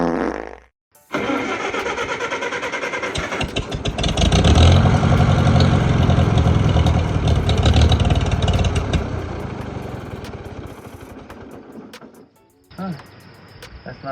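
Tractor engine cranks and catches, then runs with a loud, rough, sputtering idle that swells and slowly fades before stopping, followed by a brief restart burst, heard close.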